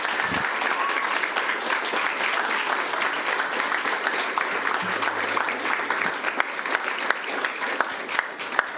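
At a school board business meeting, the audience gives sustained, even applause for a graduating high school student being recognized; many hands clap loudly and continuously throughout.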